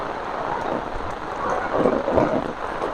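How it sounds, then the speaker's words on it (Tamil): Heavy rain falls in Jaffna, a dense, steady hiss with some lower rumbling surges, close and fairly loud, with no voices. "மழை பொழிஞ்சோண்டு தான் இருக்குது"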